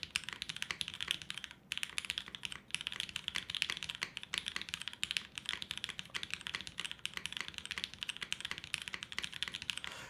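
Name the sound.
typing on a mechanical keyboard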